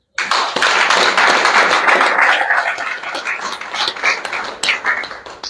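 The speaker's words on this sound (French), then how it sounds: "Je voudrais que vous vous applaudissiez." Members of a trade union executive bureau break into applause at a gathering in Gabon, with a dense burst of clapping that gradually thins and turns uneven toward the end.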